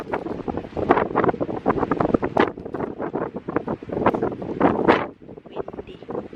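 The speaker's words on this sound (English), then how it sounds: "The wind is crazy." Strong wind buffets the microphone in loud, gusting bursts that rise and fall continuously, with no clear voices.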